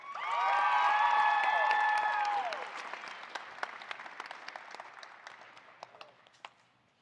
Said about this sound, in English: please give a warm round of applause for our advisors